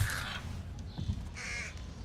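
Crows caw twice in the Thief stealth game, harsh rasping calls separated by a short pause over a low ambient background.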